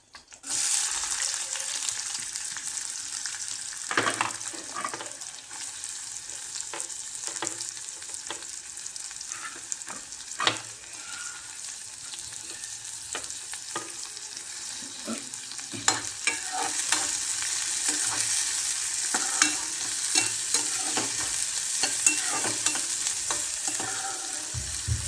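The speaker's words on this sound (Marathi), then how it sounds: "आता आपण कांदा टाकून घेऊया" Chopped onion fries in a little oil in a pan over a low gas flame, a soft steady sizzle broken by repeated scraping and clicking as a spoon stirs it.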